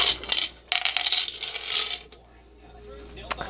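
Coins clink and rattle into a plastic Pikachu head coin bank, a quick cluster of bright metallic jingles followed by a few fainter settling clinks and a final lone tap, close and fairly loud with no talk.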